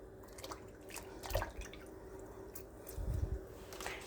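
Fruit being poured and dropped into a bowl of washing water, quiet soft splashes and drips with two fuller plops near the middle and end.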